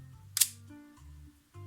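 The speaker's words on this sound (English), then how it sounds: "So I am cocking the shutter is set on B, and I'm releasing the shutter." A FED 2 rangefinder camera set to B has its shutter released: a single sharp, bright mechanical click stands out close and alone over a quiet hum of background tones.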